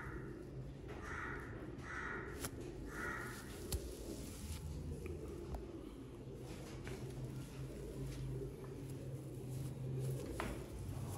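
Pigeons on a rooftop loft with soft, low cooing that rises and falls in a steady rhythm, fairly faint beneath light outdoor background noise and a few scattered distant bird calls.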